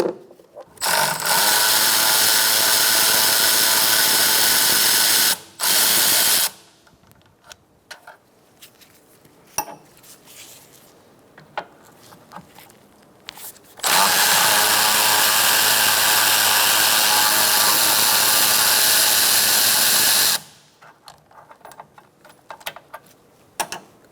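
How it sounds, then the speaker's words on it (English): A ratchet driving a 10mm socket to remove bolts on a 2014-2019 Kia Soul 1.6L during cooling fan replacement, heard as two long, loud, continuous runs of rapid clicking with a short burst between, close by, with no talk. "now we're going to take out these 2 bolts with a 10mm socket"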